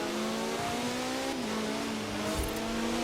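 A Caterham Superlight R500 in Forza Horizon 4 drives at speed, its engine holding a steady high drone with a brief pitch dip and a faint tire scrub near the end, with no talk.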